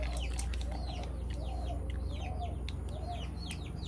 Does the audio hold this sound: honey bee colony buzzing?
no